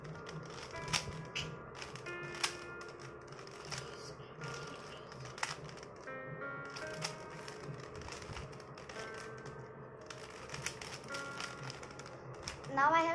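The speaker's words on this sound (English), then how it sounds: "Today I will solve the 3x3 Rubik's cube. Now I'll shuffle it." A 3x3 Rubik's cube is twisted and shuffled with quick plastic clicks and turns that run steadily under a voice talking throughout.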